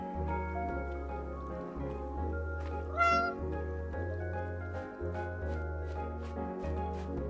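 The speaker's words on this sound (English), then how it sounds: "Can we run with the cat?" A cat meows once in the video game Calico, a short clear call over steady looping game music.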